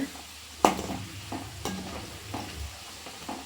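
Spice powder for fish pickle stirred into an oily pan, with a sharp scrape of the spoon near the start followed by softer periodic scrapes over a low, steady sizzle.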